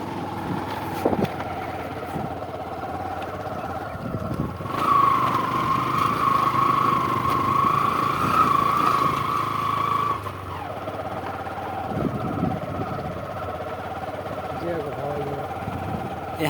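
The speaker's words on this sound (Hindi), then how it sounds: "सुगमतापूर्वक बाइक चला सकते हैं।" A motorcycle engine drones steadily nearby, its pitch rising and straining in the middle stretch before easing back, with a bumpy, rattling ride throughout over bricks, gravel and stones.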